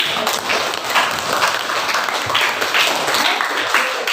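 Applause for students in a classroom lesson, a dense, steady wash of clapping from a group, loud and continuous throughout with no break.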